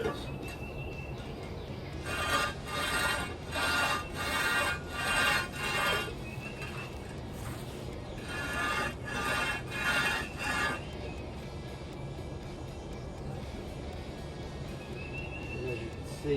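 A cast-iron manifold from a 1929 Ford Model A Tudor is rubbed by hand across rough concrete, giving two bursts of rhythmic rasping scrapes, about eight strokes each, close and moderately loud, separated by quieter pauses.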